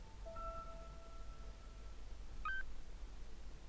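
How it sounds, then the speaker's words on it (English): A telephone rings in a hall in the game Agatha Christie: The ABC Murders: a faint, steady electronic tone, then a brief, higher warbling burst, over a low, quiet hum. "The telephone in the hall is ringing."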